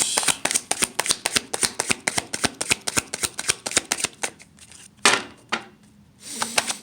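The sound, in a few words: shuffling tarot cards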